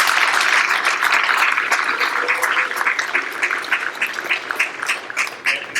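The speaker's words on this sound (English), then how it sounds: "Let's have one more round of applause for this year's induction." Audience applause for National Honor Society inductees at a high school induction ceremony, a dense, steady patter of many hands clapping in a large room that holds for several seconds with no speech.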